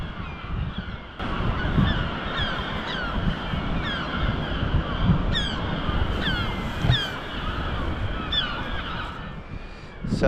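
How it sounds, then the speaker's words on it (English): Gulls call repeatedly over a steady wash of surf and wind on the Welsh sea cliffs near the Green Bridge of Wales, their cries overlapping at moderate distance throughout. "You can hear the birds, seagulls mainly,"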